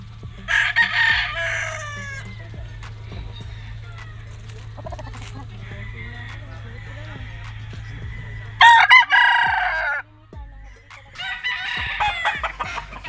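A yellow-legged gamefowl rooster at a game farm crows loudly in two full bursts, with other birds clucking and a steady low hum in the background.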